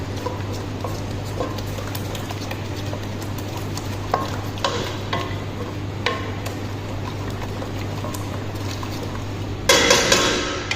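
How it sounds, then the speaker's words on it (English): Ginger chicken gravy with tomato puree being stirred in a pan: soft scraping and scattered spoon clinks over a steady low hum, with a brief louder hiss near the end. "So now we have to add our this tomato puree here, and you have to mix well."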